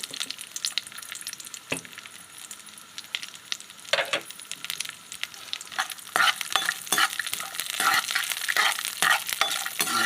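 Cashews and almonds fry in a pan, a soft continuous sizzle broken by repeated scraping and clinking strokes of stirring, close by and with no talk.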